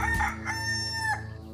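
Chicken sound effect in a livestock app advertisement: a single drawn-out, crowing-style call, clear and close, with no talking.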